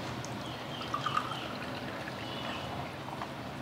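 Municipal tap water pours steadily into a container, a continuous close trickle and splash with a few brief brighter drips partway through, no voices.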